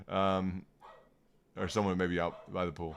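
A pet dog barks in the background at a home with a pool, a few yips mixed in under a man's steady, continuous talking.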